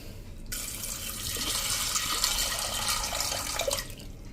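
A steady stream of water pours into a pressure cooker holding kidney beans, starting abruptly and running evenly for about three seconds before tapering off, close and alone.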